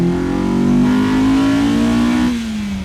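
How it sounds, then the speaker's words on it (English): A Honda S2000 with an AEM V2 intake revs hard toward 9,000 rpm, its loud, close engine note climbing steadily as VTEC engages, then dropping away near the end. "You guys can hear that VTEC changeover."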